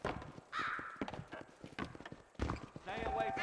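Horse hooves clip-clopping at a walking pace in the video game Red Dead Redemption, alongside a man's speech, with a few louder bursts of game effects.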